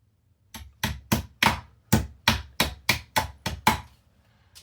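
Nails are hammered into a wall to mount a no-stud TV hanger, about eleven sharp, close hammer strikes in a quick, fairly even rhythm, each ringing briefly before the next, with no talking.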